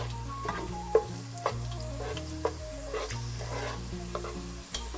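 Raisins frying in oil in a pan for Malabar chicken biryani, with a steady low sizzle under repeated spoon-against-pan scrapes and clinks as they are stirred, close and moderately quiet.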